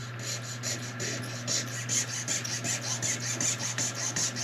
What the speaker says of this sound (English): I will run my saw, the wire blade, right down the outside